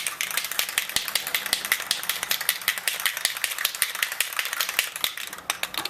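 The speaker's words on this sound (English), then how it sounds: "So I'm going to shake it up again." Rapid rhythmic rattling of a spray can being shaken, a mixing ball clacking inside over and over, close and fairly loud.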